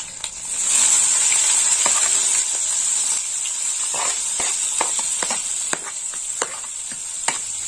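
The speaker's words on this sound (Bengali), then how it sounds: "পেঁয়াজটা একটু লাল লাল করে ভাজা হবে" About 50 grams of chopped onion frying in hot oil for a prawn malai curry, a loud steady sizzle that runs throughout, with occasional clicks and scrapes of stirring.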